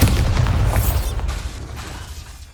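A Bombarda spell blast in a magic duel rings out as one loud, booming explosion right at the start, its rumble slowly decaying away over a couple of seconds with nothing else heard.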